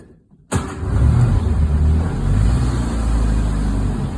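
A 1952 Morris Minor with the choke pulled out cranks and catches after a short silence, then settles into a steady, close idle that runs on to the end with no voices.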